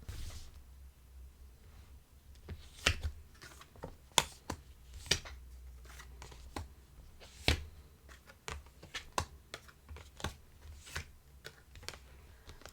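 Tarot cards drawn and handled at close range, with sharp slaps and flicks of card stock scattered irregularly over a quiet background, some louder snaps standing out.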